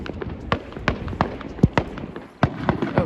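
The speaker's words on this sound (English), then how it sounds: "It was a pink firework!" Fireworks burst at Caerphilly Castle during an evening display, a rapid series of sharp cracks and pops about every third of a second, fairly close and loud over a crowd murmur.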